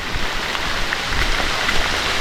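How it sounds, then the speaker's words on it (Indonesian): Heavy rain falls steadily on a remote bamboo forest slope, a loud dense hiss of drops with a few sharper splatters close by and no voices. "Hujan masih deras banget teman-teman."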